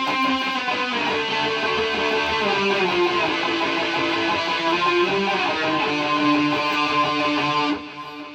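An electric guitar plays part of the solo from a song, a continuous run of sustained, bending lead notes, loud and close, stopping abruptly near the end.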